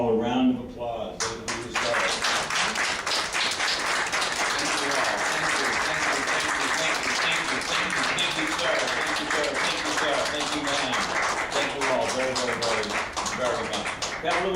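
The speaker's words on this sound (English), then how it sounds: "please raise your hands so that everybody can give you all a round of applause" Sustained audience applause for veterans at an assisted living center, steady and full throughout, with cheering and voices mixed into the clapping.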